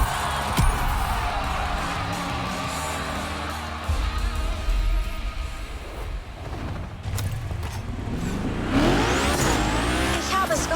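A car in The Crew Motorfest racing game spins victory donuts after a gymkhana run, its engine revving hard and its tires squealing in long loud whines that rise and fall, with a sharp screech near the end.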